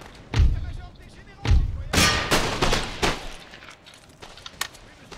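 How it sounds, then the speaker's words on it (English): Musket volleys from soldiers in Empire: Total War, booming bursts of massed gunfire with deep thuds and crackling rattles. Loud volleys come in several waves, followed by scattered fainter shots, with a voice talking over them. "Okay, they start to shoot at us."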